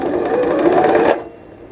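A sewing machine runs steadily at close range for about a second, then stops, leaving a faint room hush.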